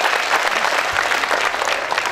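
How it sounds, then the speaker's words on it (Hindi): Audience at a lively comic poetry recital during the Jalore Mahotsav Kavi Sammelan breaks into loud, dense applause that holds steady for about two seconds, many hands clapping together close and full. "जोरदार तालियां बजा के बताओ आप कविता सुनने के मूड में"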